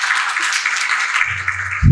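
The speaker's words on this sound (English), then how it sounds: "Please give the applause" An audience applauds to welcome a guest speaker at a finance talk; dense, even clapping fills the clip, then a low hum and a louder bump intrude near the end.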